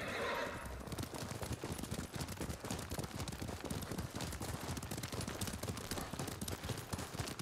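Horse in the Ghost of Tsushima video game, a loud whinny at the start, then fast galloping hooves drumming steadily and close for several seconds.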